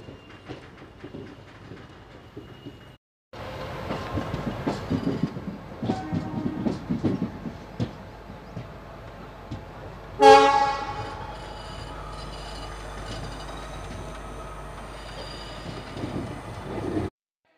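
A train rolls into Vijayawada Junction with loud, steady rumble and rhythmic clatter of wheels over rail joints, a sharp horn toot cutting through midway before the running noise carries on.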